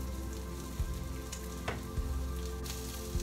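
Onions, potatoes and sausage frying together in a pan for a Spanish omelette, a soft spattering sizzle at moderate distance under a steady low hum, with a few light knocks and no talk.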